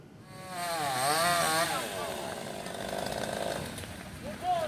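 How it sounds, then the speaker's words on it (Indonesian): Chainsaw cutting fallen banyan tree branches off crushed cars after a windstorm on a Jakarta street, its whine rising and falling through several cuts, close and loud with some voices and street noise underneath. "Petugas menggunakan gergaji mesin untuk memotong dahan pohon yang menimpa kendaraan"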